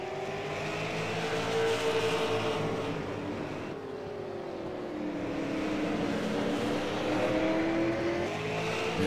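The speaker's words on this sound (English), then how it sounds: "We've got about 11 cars remaining in this race" Race cars circle the Las Vegas Bullring oval in a field of about eleven, their engines a sustained, droning roar with rising and falling pitch sweeps as the cars pass at a moderate distance.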